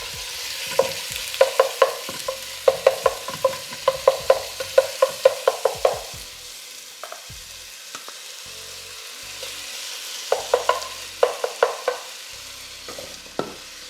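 Chicken pieces for a leek pot pie hit hot olive oil in a pan, giving a broad steady sizzle broken by a series of sharp clattering scrapes and taps, with quieter gaps between bursts.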